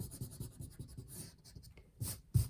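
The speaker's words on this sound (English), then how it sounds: "erase this part here" Pencil lines being erased on paper for a bear drawing, a soft rhythmic rubbing in quick back-and-forth strokes, close and quiet, ending with a couple of brief brushing sweeps.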